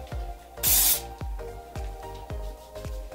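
A short, loud hiss from an aerosol hairspray can, lasting under half a second, over a regular ticking beat and a steady hum.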